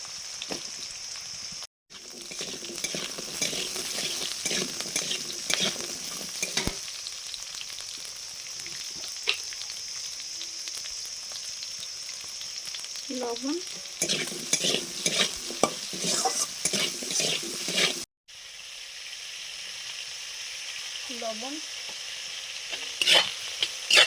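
Potatoes and greens sizzle in hot oil with panch phoron and green chilli for a saag chorchori, loud frying hiss with bursts of vigorous stirring scrapes and two brief pauses.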